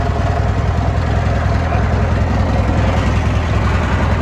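An Allis Chalmers 616 Special garden tractor engine runs steadily, a loud, close, even low rumble with no breaks from start to finish.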